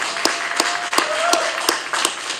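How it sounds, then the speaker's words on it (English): A round of applause at a board meeting comes as a short spell of clapping with distinct, regularly spaced sharp claps over a diffuse wash of hands, moderately loud. "So I think that deserves a round of applause as well."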